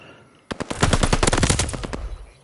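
A loud, rapid burst of machine-gun fire from an aircraft's strafing run in a video game, about one and a half seconds of dense, rattling shots that end abruptly.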